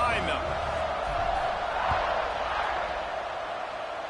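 A stadium crowd in the College Football 26 video game roars at kickoff, a steady broad wash of cheering that holds for the whole stretch, with faint thuds and game sounds under it.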